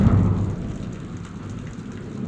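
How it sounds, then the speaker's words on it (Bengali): Thunder rumbles loudly through a heavy rainstorm over Rajshahi city, a deep low roll at the start fading under a dense, steady downpour that continues throughout, with no one speaking. "কী পরিমাণে বাজ পড়ল"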